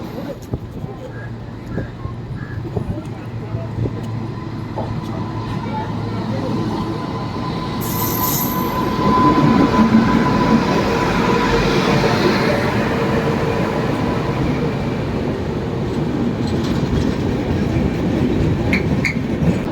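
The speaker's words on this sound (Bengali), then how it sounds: "আমাদের ট্রেন ঢুকছে" The Dhauli Express train rolls into a station on the Balasore to Shalimar route with rhythmic clattering of wheels on rails, growing louder and heavier midway, with faint voices in the background.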